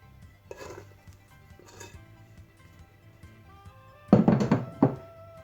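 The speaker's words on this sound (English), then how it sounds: "I'm just going to add the dough." Doughnut dough dropped onto a floured desk for kneading makes soft dull thuds, two light ones early and a heavier cluster of slaps and knocks toward the end, close and otherwise quiet.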